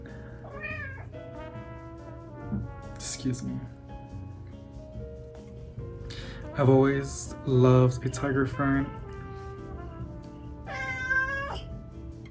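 A cat meows several times, with a drawn-out, wavering cry near the end, mixed in with people talking nearby.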